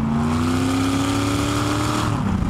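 A loud, close Boss Hoss V8 motorcycle engine roars steadily, its pitch rising slowly then dropping near the end, a harsh rumbling exhaust note.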